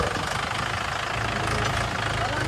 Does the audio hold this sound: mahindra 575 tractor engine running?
yes